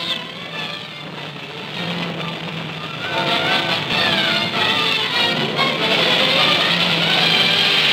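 Race cars roar at full speed around the turns of a track in 1953 film footage, a sustained engine drone that swells louder midway and stays loud to the end, with no clear speech.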